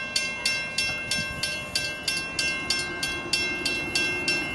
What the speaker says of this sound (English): I think a train's coming now.